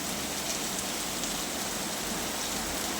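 Heavy afternoon rain falls in a dense, steady hiss, an even wash of drops on surfaces with no voices over it.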